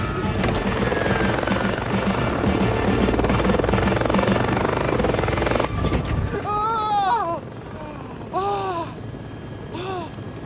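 A helicopter in flight gives a loud, steady rotor and engine roar for about six seconds, then the scene cuts to a quieter setting with repeated high chirping calls.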